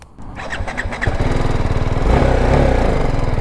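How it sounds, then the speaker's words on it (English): A BMW G 310 GS BS6 motorcycle engine chugs at low revs, a few uneven pops at first, then settling into a loud, steady throbbing rumble close by. "the sound of this motorcycle in the lower revs"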